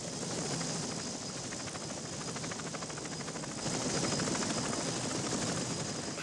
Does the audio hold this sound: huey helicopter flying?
yes